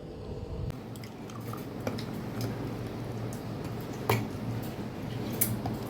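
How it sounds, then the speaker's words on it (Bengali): Close, soft wet chewing while eating rice with jute leaves fried with green mango, steady mouth sounds over a low background hum with a few small clicks. "এই যে ভাত খাচ্ছি।"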